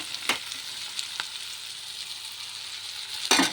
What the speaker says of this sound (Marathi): चांगल्या प्रकारे कांदा टोमॅटो हे कलसल्या गेलेलं आहे याच्यामध्ये